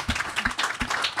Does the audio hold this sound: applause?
yes